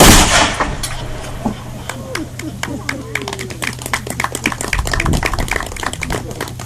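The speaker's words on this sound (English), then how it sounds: "So there's a cannon salute to welcome you all to Fort Mackinac today." A loud historic cannon salute blast booms at the start at Fort Mackinac, followed by scattered clapping and crowd noise with people talking nearby.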